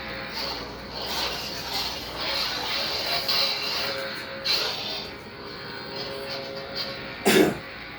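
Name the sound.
coughing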